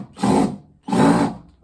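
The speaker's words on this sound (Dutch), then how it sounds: "Het lijkt of het een gekke boormachine is" A handheld power drill whirs in two short bursts of about half a second each, indoors at home, close and fairly loud, with a brief gap between them.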